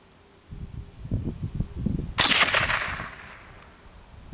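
A Savage A22 heavy fluted-barrel semi-automatic .22 rifle fired outdoors in light wind: a single sharp crack that rings out and fades after a stretch of low rumbling background noise.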